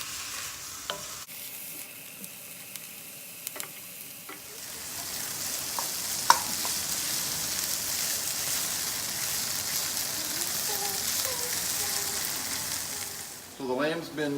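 Lamb, carrots and other vegetables for a Moroccan soup sizzle steadily in a pot, a dense continuous frying hiss that swells after a few seconds and holds, with occasional clinks and stirring and a brief voice-like sound at the end.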